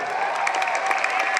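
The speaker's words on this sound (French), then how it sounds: "Allez, on l'applaudit bien sûr." Spectators applauding a trial motorbike rider after a section over concrete blocks, a dense, even wash of clapping with scattered louder claps, moderately close, with no one speaking over it.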